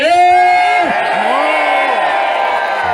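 A loud, dense protest crowd of Haitian demonstrators in Ottawa shouts and cheers continuously, with rising and falling whoops and yells over a steady roar of many voices.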